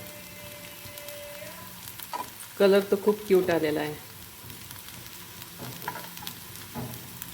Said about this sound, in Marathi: अशा कुरकुरीत शॅलो फ्राय करून घेऊया.